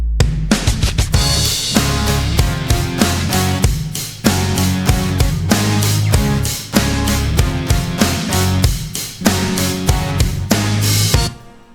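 Full pop arrangement of layered basses with drums, synths and other instruments, dense and loud with a driving beat of regular hits throughout, no voices.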